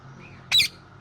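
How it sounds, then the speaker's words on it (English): A pet parrot lets out a single short, sharp squawk, close and loud against a quiet indoor background. "This is my parrot."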